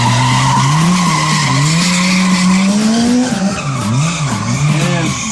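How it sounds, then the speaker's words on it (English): A 2020 BMW S1000 XR motorcycle performs a burnout, rear tire screeching and skidding loudly while the engine wails in wavering, rising and dipping pitch, close and continuous throughout. "Burnout, but just flying all over the place."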